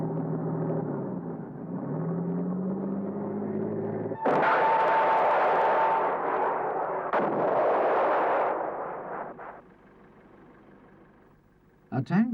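An engine idles and rumbles, then a sharp blast rings out as a 9-pound anti-tank missile is fired at a tank's rear from the woods, followed by a harsh roaring rush of the launch fading out, with a final crack near the end.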